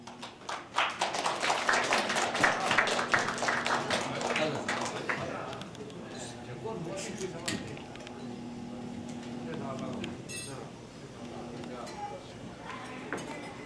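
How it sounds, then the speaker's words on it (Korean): Steady crowd applause fills a 60th birthday banquet hall, loudest over the first five seconds and then thinning into scattered claps, with murmured voices and a low sustained tone underneath. "다시 한번 박수 보내주세요."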